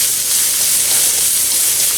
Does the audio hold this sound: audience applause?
no